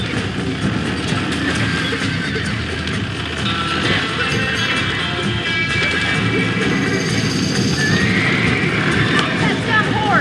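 Horse in the video game Red Dead Redemption whinnying amid steady hoofbeats and game ambience, with a voice speaking over it throughout.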